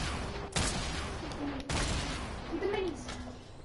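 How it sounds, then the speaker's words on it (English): Gunfire in a multiplayer shooter video game: two sharp, distant shots stand out from a scattered background of firing, with a faint voice briefly under it. "I hear people shooting each other."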